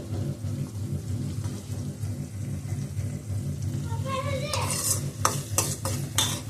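Cumin, mustard seeds, curry leaves and onion frying in oil, a dense steady sizzle with crackling pops and several loud bursts of spattering toward the end.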